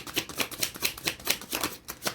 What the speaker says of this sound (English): Just want me to shuffle until